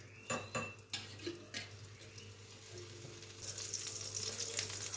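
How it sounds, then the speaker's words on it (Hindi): A pan clanks down with a few sharp metallic knocks, then oil pours in and starts a faint, steady sizzle while flaxseed pinni is being made in a home kitchen. "अब ले लेंगे पैन, इसमें थोड़ा सा ऑयल डाल देंगे"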